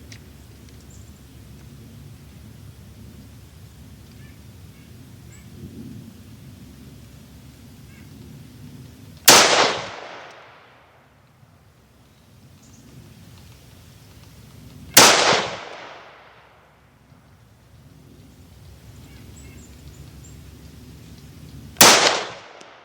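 Three loud, sharp rifle shots from a Springfield Armory Hellion fired at targets outdoors, spaced several seconds apart, each with a decaying echo over a quiet low background.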